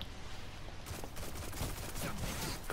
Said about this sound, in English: He's trying to snipe me.